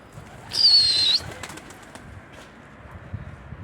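Pigeons outdoors, a brief bird call followed by a flurry of flapping wings, fairly faint, with quiet background noise after.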